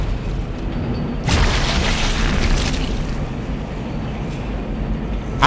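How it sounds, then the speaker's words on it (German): A heavy explosion booms in the sci-fi horror game Dead Space, a broad roaring burst lasting a couple of seconds over a constant low rumble, then fading back into dark ambience. "die explodieren von alleine"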